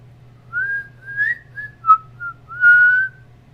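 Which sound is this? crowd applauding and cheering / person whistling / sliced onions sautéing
person whistling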